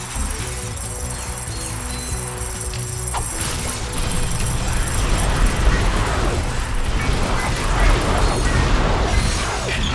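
A lava gun fires in a video game as a dense, crackling roar of rapid bursts and impacts that swells after a few seconds and keeps going loudly over mechanical whirring and game noise.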